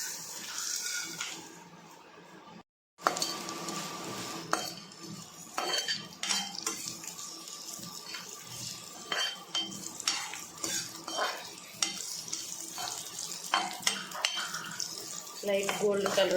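A teaspoon of oil sizzles in a pan with cumin, garlic, dried red chillies and curry leaves as tempering for amaranth dal, while a spoon scrapes and clinks against the metal in repeated stirring strokes, briefly cutting out once.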